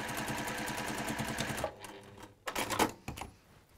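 A sewing machine stitches quickly along fabric, its needle hammering in a fast, even rhythm for over a second before stopping. A few short, separate bursts of stitching follow, all faint and close with no talk.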